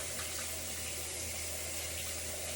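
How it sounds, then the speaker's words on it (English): Water sloshing and squelching through wet, fine wavy 2b curly hair as hands pulse it around, a steady soft wash of liquid noise close by, no talking. "I'm just sort of what's called pulsing water around."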